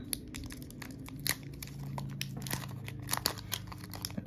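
A Pokemon card booster pack wrapper is torn and crinkled open with a struggle, giving a steady run of close, loud crackling and ripping with sharp bursts of tearing throughout.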